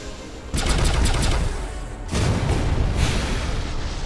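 Pulse barrage weapon fire in the space combat game Sunrider, two loud rapid volleys of booming shots, each burst rattling on and fading, with no talking.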